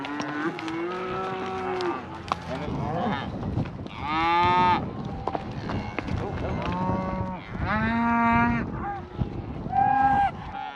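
Cattle on a ranch moo repeatedly, several long, loud, drawn-out calls from nearby cows overlapping each other, with wind buffeting the microphone in between.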